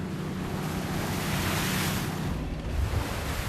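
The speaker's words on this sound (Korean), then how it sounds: "다음 어장으로 이동하는 사이 부쩍 험해진 파도" Rough winter seas batter a fishing boat travelling between trap-fishing grounds, a continuous roar of heavy waves mixed with gusting wind buffeting the microphone.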